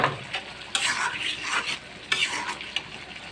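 Shing fish added to a frying spice masala hiss and sizzle up close, with two loud bursts as pieces go in and spatula stirring scrapes in between.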